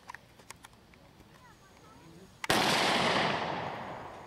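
A single sharp gunshot cracks out at an outdoor shooting competition, loud and close, followed by a long decaying roar, after a few seconds of quieter ambient clicks and distant chatter.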